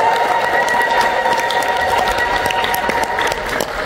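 A church congregation at Kidane Mihret in Las Vegas applauding in praise, with continuous dense clapping from many hands that fills the room at an even level throughout.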